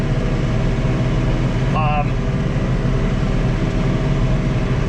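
A John Deere 3046R compact tractor engine revs up toward 2,200 RPM, a steady, loud mid-range drone that holds throughout, with a brief whistling tone partway through.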